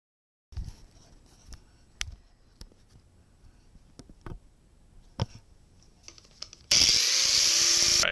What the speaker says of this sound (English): I left a little bit of that raw audio in there so we could hear how loud our angle grinders are